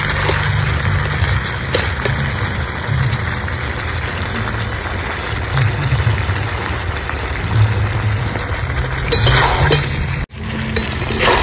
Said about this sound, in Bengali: সুন্দর কষিয়ে নিয়েছি